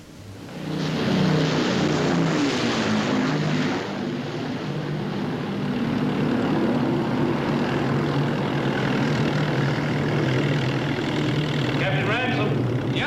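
RAF aircraft drone overhead at night, a loud, sustained propeller-engine roar that swells in after a second and holds steady, with a voice speaking underneath.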